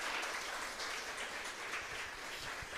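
A church congregation applauding, a soft, distant, dense patter of clapping throughout the short stretch, with no talk over it.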